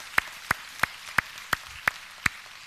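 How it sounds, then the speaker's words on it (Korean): A congregation clapping together at a Sunday morning church service to glorify God. Seven sharp, evenly spaced claps come in a steady rhythm against a quiet room, with no voices. "우리 하나님께 영광의 박수 올리겠습니다"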